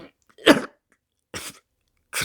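A man coughs in an audiobook narration: three short, harsh bursts spaced apart, the first strongest, close and dry with silence between.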